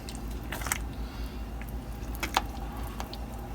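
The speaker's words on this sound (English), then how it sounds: "stir that in." Canned crab being stirred into a thick crab and clam chowder in a pot, giving soft wet squishing and sloshing sounds with a few sharper scrapes and clicks of the spoon, close and quiet.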